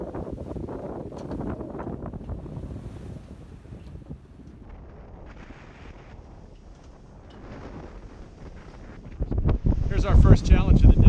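Strong gusting wind buffets a sailboat under sail in a beam reach, a loud, rough roar against the microphone that eases midway and then surges louder at the end. A voice talks over it briefly.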